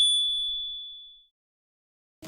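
A single bright notification bell ding rings out clean and close, then rings on and fades to silence, with a faint click at the very end.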